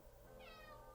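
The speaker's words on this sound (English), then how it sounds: "Marley's an outside cat now. Can you hear him" A cat meows outdoors, a single short, faint call from a distance with no talking around it.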